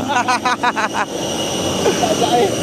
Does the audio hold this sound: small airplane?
yes